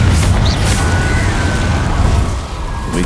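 A Confringo spell going off in the video game Hogwarts Legacy, a loud booming blast with dense rumbling low end that holds steady and then fades slightly near the end.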